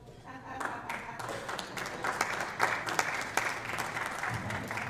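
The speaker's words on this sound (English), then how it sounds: "There's a round of applause for Deb" An audience at a public meeting in East Palestine about the Norfolk Southern derailment breaks into applause, a dense patter of many hands clapping that swells and holds at moderate distance, with voices mixed in beneath.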